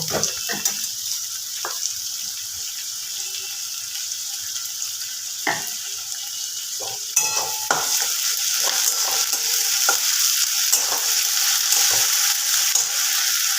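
Onion frying in a pan with half a spoon of ginger-garlic paste added, for a chicken dish; a steady close sizzle with intermittent stirring clinks and scrapes, growing louder about halfway through.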